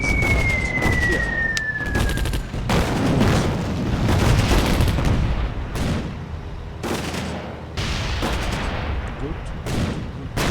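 Artillery fire in a North Africa battle game at El Alamein, repeated heavy booms and sharp reports spaced every second or two over a steady rumble, with a voice speaking intermittently.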